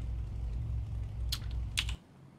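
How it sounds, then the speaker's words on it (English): A noisy computer keyboard is typed on during PC gameplay, two short clusters of clicky keystrokes near the mic over a low background hum that cuts out at the end. "Sorry for my noisy keyboard"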